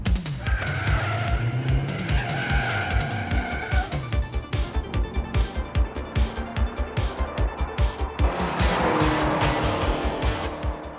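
A Porsche driven hard on a joyride, its tires squealing and skidding while the engine revs in loud repeated pulses, rising and falling close by.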